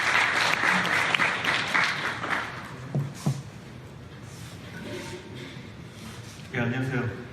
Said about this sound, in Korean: 박수 좀 쳐주시죠